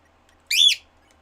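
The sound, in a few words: pet bird whistling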